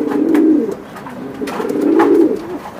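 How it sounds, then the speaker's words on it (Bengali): Racing pigeons coo repeatedly nearby, two drawn-out low throaty rolling phrases of about a second each, loud and clear with no speech over them. "কবুতরগুলা অনেক সুন্দর, প্রত্যেকটা কবুতর ভাই সুন্দর।"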